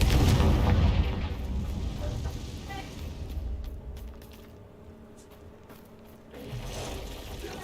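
A Confringo spell explodes in Hogwarts Legacy, a deep booming blast at the start that rumbles and fades into crackling debris, then a second low surge near the end.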